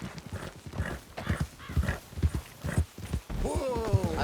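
Horse hooves clip-clop in a steady, close rhythm with a short neigh near the end, from the Red Dead Redemption 2 video game; a voice speaks over part of it.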